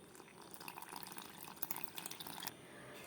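Water pours steadily into a cauliflower batter for gobi 65, a bright splashing trickle that runs for about two and a half seconds and then stops, close and alone.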